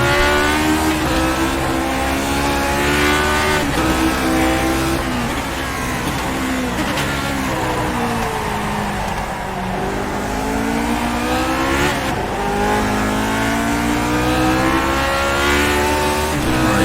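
A Lotus 49 race car in iRacing at Okayama, its engine loud and close, climbing and falling through the revs as it shifts gears, continuous across the lap with no voice over it.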